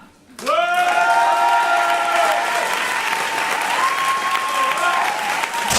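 An audience at a launch evening bursts into a thunder of applause for two candidates, loud sustained clapping starting abruptly, with a few voices cheering within it.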